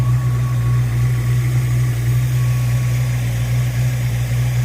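A Ford Mustang engine idles with a steady, deep, even rumble and a low hum that never changes, heard up close with no voices over it.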